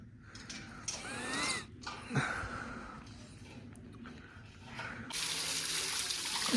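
Water from a tap runs and splashes while farm tools are washed, with intermittent gushing and rinsing, then a steadier flow at the end.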